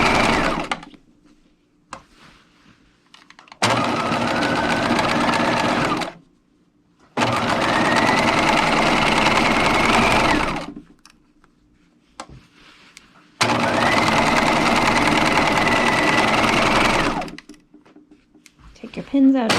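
A sewing machine backstitches and then sews a 3/8-inch seam on a sweetheart slip, running in three loud sustained bursts separated by short pauses, with a quiet steady hum between them.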